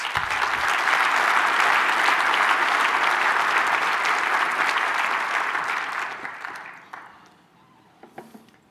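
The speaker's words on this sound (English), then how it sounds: "Let's give them again a round of applause." Sustained, loud round of applause from a large audience at a port's annual address, holding steady for several seconds before tapering off to scattered claps and quiet.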